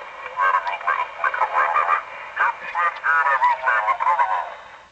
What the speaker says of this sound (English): Now I'm tuning in with the trimmer on this radio station.